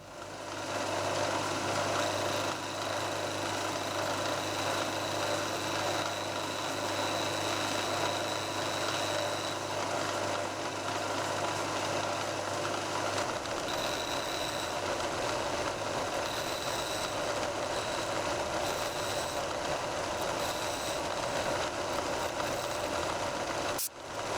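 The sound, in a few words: metal machining of model aircraft engine mount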